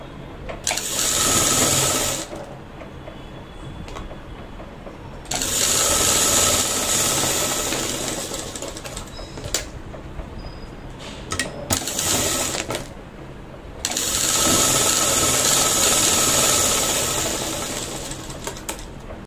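A sewing machine stitches a blouse in three long runs of steady, fast mechanical whirring, each starting and stopping cleanly, with quieter pauses of handling and small clicks in between. There is no talking.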